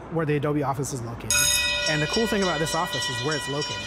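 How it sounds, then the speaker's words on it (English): Warning bell on Seattle's Fremont drawbridge rings steadily and loudly from nearby, a bright repeated metallic clang sustained beneath someone talking over it. "You can obviously hear that bell."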